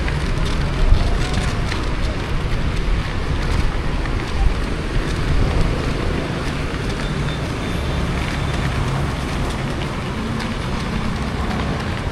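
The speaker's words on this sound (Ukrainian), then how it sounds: "Просто дуже сильний вітер." Strong wind roars steadily against the microphone for the whole stretch, a heavy low buffeting rumble with water sounds mixed underneath.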